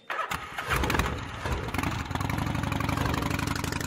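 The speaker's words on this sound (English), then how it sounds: "We're gonna get on our bike." In the video game Gabriel Knight 3, a motorcycle engine cranks and fires, then settles straight into a steady, throbbing idle rumble.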